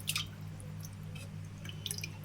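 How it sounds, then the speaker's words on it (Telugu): Wet chicken pieces, about a quarter kilo, are lifted from water and dropped into a pressure cooker, giving faint drips, soft squishes and a few light taps over a steady low hum. "వేస్ట్ ఆఫ్ వాటర్ నుంచి తీసి మనం చికెన్ని కుక్కర్లో వేసుకొని"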